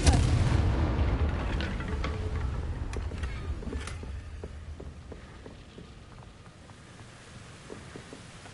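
A Confringo fire spell bursts in Hogwarts Legacy, a loud booming blast at the start that rumbles and fades, followed by a few faint sharp pops and crackles trailing off over several seconds.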